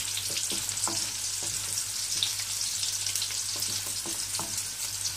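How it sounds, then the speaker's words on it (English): Mushrooms sizzle and fry in a hot pan for spicy mushroom 65 fried rice, a steady, loud crackling hiss with occasional stirring scrapes and no talking. "Just saute these mushrooms a little bit."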